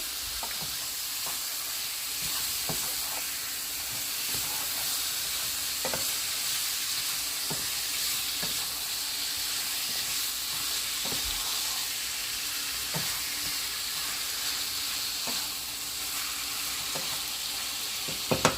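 Jamaican curry chicken sizzles and simmers steadily in a pot on a stove at medium heat, a constant frying hiss with small pops and bubbles throughout.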